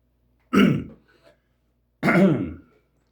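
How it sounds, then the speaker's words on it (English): Two distinct throat clearings, close and fairly loud, separated by a short silence. "Excuse me while I clear my throat."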